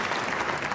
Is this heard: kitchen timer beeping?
no